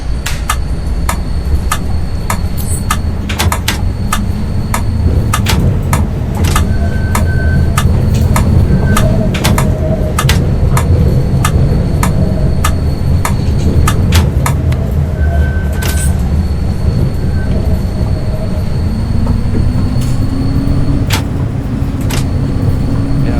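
A tram in City Transport Simulator rolls steadily along its rails with a constant low rumble, while scattered clicks and clacks and a few brief tones sound over the drone.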